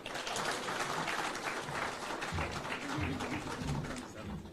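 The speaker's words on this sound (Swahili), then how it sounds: "Makofi." An audience at a Kenyan political gathering applauds to welcome the President, sustained clapping of moderate loudness with some low rumbling and crowd noise mixed in.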